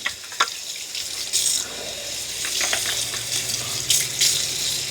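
Water runs and splashes from a tap in uneven bursts while a robot mop's roller is rinsed, with occasional sharper spatters and drips, close by and fairly loud.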